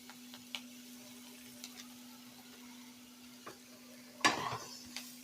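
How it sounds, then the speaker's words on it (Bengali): Tomatoes go into a pan of spices frying on a low flame for dhaba-style chicken bhuna, giving one short, sharp burst of sizzle near the end over a quiet background with a low steady hum and small clicks. "এবার এখানে আমি দিয়ে দেব টমেটোটা।"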